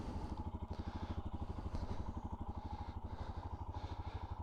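A 2021 Royal Enfield Himalayan single-cylinder motorcycle idles just after starting, its engine thumping in a fast, even pulse with a faint mechanical clatter on top, close and fairly quiet.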